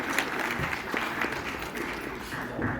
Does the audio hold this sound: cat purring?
no